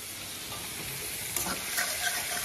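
Bay leaf frying in hot ghee, a close, continuous crackling sizzle with a few small pops and spatters, no talking.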